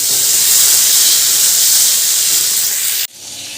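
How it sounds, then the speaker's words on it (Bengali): Chopped tomato drops into hot oil and sizzles with a loud, steady steam-like hiss that cuts sharply and then continues more softly. "এবার ওই তেলের মধ্যে আমি দিয়ে দিচ্ছি টমেটো কুচি"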